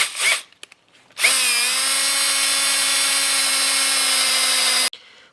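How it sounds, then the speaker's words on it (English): A loud, close power drill reaming out bolt holes for the front struts of a 1993–2002 Firebird Trans Am, spinning up after a few small knocks and holding a steady, slightly dropping whine for nearly four seconds before stopping abruptly. "Now I'm just going to rim these holes out to become a little bigger"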